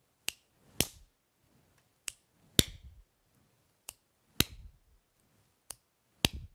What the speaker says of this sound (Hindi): चुटकी बजाई फिर ताली, फिर चुटकी फिर ताली